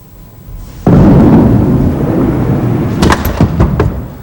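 A 5-pin bowling ball rolls down the lane and strikes the pins, a loud rumbling crash followed by a scatter of clattering pin hits in a bowling alley.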